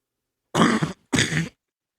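Two sharp, rough coughs close to the mic, separated by a brief pause, with silence on either side.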